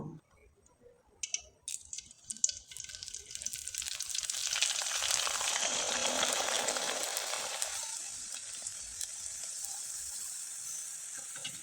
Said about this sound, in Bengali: এখন আমি কিছুটা পিঠা তেলে ভেজে দেখিয়ে দেব